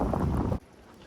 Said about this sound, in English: Why did the wind blow as soon as I took this off?